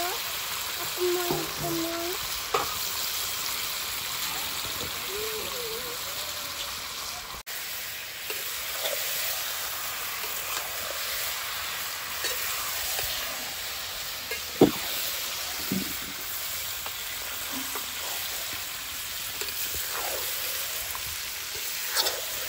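Chicken kosha fries in a pan, a steady close sizzle broken by scraping spatula strokes as it is stirred. No one speaks.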